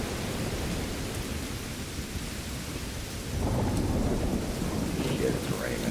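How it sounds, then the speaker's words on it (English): Heavy rain pours down in the video game The Division 2 with a low rumble of thunder swelling midway, steady and enveloping. "it's raining. Like a mofo."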